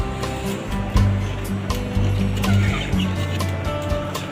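Country hens on a small poultry farm cluck in short repeated bursts against a steady rushing background, fairly close and moderately loud.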